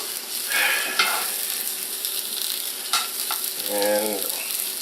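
Red onion frying in a pan, a steady broadband sizzle with a few sharp scraping stirs and a brief low tonal sound near the end, fairly close and with no voices.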